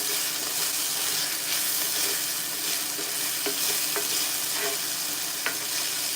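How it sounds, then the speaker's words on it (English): Beef stroganoff simmering in a cast iron pan, a constant close sizzle and bubbling hiss with faint stirring scrapes, no voices. "We're gonna simmer it in this cast iron too"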